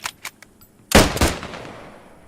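Gunfire in the Post Scriptum video game: two loud, close shots about a quarter second apart, each with a sharp crack and a long echoing tail, after a few faint distant pops.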